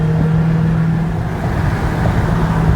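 A Dodge Hellcat engine roars steadily under acceleration, a loud, continuous low rumble with a sustained drone, close and unbroken, no talking heard.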